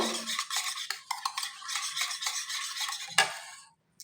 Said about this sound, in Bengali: খুব ভালো করে ডিমগুলোর সাথে মিশিয়ে নেব